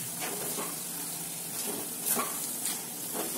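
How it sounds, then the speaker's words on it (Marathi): Vermicelli upma with chopped coriander is stirred in a hot pan, making a continuous sizzle broken by repeated scraping strokes of the spoon, close and without talk. "त्याला मिक्स करून घ्या"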